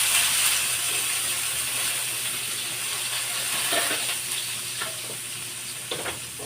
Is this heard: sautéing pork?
yes